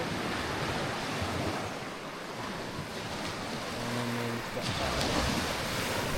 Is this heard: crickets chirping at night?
no